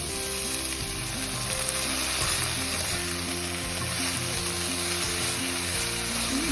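Garlic, green chilies and chopped drumstick leaves fry in oil in a pan, a loud, continuous close sizzle with soft stirring underneath and no speech.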